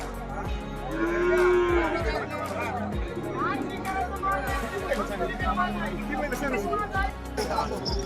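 Bulls low and moo at a cattle market amid a noisy crowd, with people chattering and a bustling hubbub of voices filling the background.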